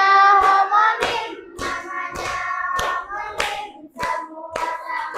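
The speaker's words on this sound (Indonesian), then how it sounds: "tepuk tangan buat kita semua" Audience clapping in rhythmic bursts, roughly one beat per second, at a teacher-led classroom session, loud and close with sung or chanted voices running over the claps.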